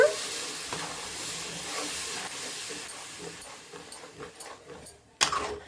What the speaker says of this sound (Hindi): हमें अब इसको 5 मिनट चलाते हुए पकाना है, अपने पालक दही को तेल छोड़ने तक